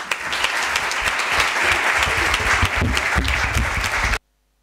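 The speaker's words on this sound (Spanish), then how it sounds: "ha habido aplauso espontáneo" Spontaneous applause at a municipal ceremony forming a children's and youth council, dense clapping from a room of people that holds steady for about four seconds and then cuts off abruptly.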